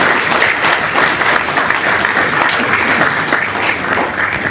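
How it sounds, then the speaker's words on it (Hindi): An audience at an event at the NMDC Convention Centre in New Delhi breaks into sustained applause to welcome a guest, loud, dense and steady clapping from many hands without pause. "सामूहिक रूप से सत्सम्मान ताली बजाकर उनका अभिनंदन और स्वागत करते हैं"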